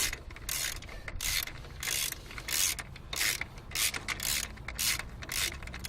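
A ratchet wrench turns the alternator adjuster on a 1997 Subaru to tighten the alternator and power steering belt. The ratcheting clicks come in repeated close bursts of a second or so, steady and rhythmic, with no talk.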